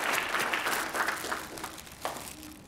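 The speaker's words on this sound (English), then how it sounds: "We want to give her a round of applause for coming with us, to be here with us today." Audience at a 2018 graduation ceremony applauds a faculty member, a soft, steady wash of clapping heard from a distance in a large hall, slowly thinning.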